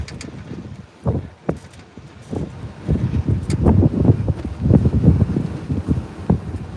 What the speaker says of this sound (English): Holy smokes, that is so windy